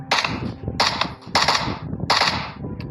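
Gunfire in the Minecraft video game comes as four sharp, loud reports, each with a short crackling tail, spaced at a fairly even rhythm.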